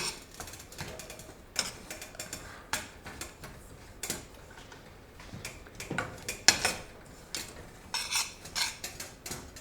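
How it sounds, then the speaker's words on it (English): Rava being dry-roasted in a pan for upma, with a spoon or spatula scraping and clinking against the metal in irregular taps and scrapes, fairly faint and close, with no talking. "it becomes much lighter as you go on roasting it, and you can smell it too"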